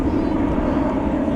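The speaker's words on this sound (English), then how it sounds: "I can only tell you that it's taking off." Jet airliner taking off at Dallas/Fort Worth International Airport on a sunny day, a steady broad engine roar holding at an even, fairly loud level throughout.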